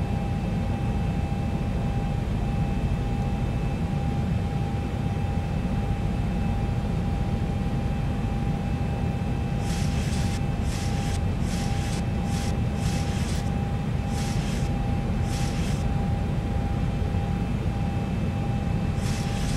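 Airliner cruising in the X-Plane 11 flight simulator, on a flight from Orlando to New Orleans: a steady, loud broadband engine and cabin drone with constant tones, joined midway by a run of short, rhythmic clicking bursts.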